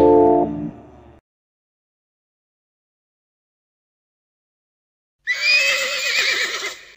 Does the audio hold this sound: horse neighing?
yes